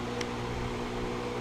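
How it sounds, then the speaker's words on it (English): A vacuum cleaner drones steadily and evenly, running close by, while it clears metal drill shavings from a freshly drilled and tapped hole during mount work on a 1991 Honda CRX. "Gotta vacuum out the shavings off right now with a vacuum"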